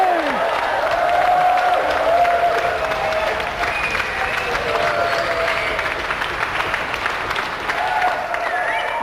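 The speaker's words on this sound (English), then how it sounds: "let's have another round of applause for our winner, Sonny Nair, and our gallant loser, Emlyn Hu" A game show studio audience applauds a winner steadily throughout, with a broad, sustained wash of clapping and some cheering voices mixed in.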